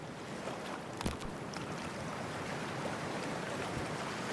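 A character plunges into freezing water in the video game Cyberpunk 2077, with a brief splash followed by a dense, continuous rush of churning underwater noise that holds steady throughout.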